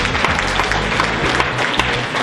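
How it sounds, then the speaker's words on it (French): An audience gives a dense, steady burst of applause for the winning group at a presentation, loud and continuous throughout. "On peut les applaudir."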